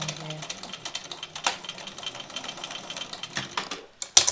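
A sewing machine stitches the long edges of a bag with a 3/8-inch seam, running in a close, steady mechanical whir with quick needle clatter and a few louder clicks near the end, with no voices.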